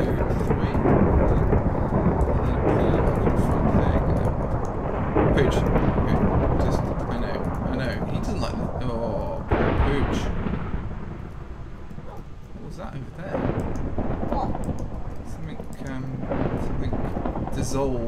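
Minecraft thunderstorm with rolling, booming thunder and rain, loud and continuous, swelling and easing over a long stretch.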